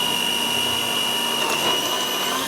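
An electric mixer beats butter and sugar for a marble cake, giving a steady, loud, high-pitched motor whine that holds for the whole stretch with no talking.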